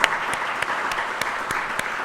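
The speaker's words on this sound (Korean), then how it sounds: "박수로 환영하도록 하겠습니다." A church congregation at a Sunday service claps in welcome, a full, even wash of applause with a few sharper claps standing out at regular intervals, and no voices over it.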